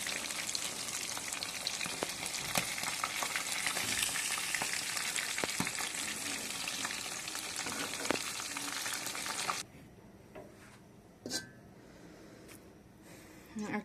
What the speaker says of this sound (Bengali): মিডিয়াম টু লো আছে মাছটা আমরা ভেজে নেব